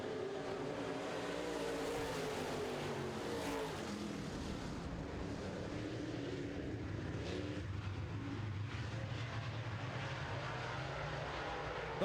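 Late model race cars roaring off at the green-flag start of a dirt-track heat race, a dense, continuous engine roar that fills the whole stretch.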